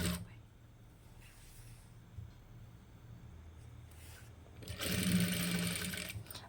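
A sewing machine stitches lining into a sweetheart neckline, quiet at first and then running in a louder, steady burst near the end.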